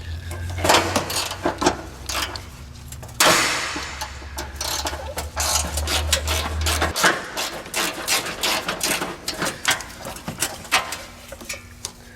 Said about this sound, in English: let's get these other two fasteners here off, and we should be able to lift the battery tray right out